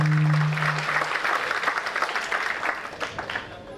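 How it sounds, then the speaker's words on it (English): Audience applause after a talk on dignity in death: dense steady clapping from a crowd starts strong and thins out gradually over a few seconds, with a brief tonal hum at the start. "I think they deserve a big round of applause"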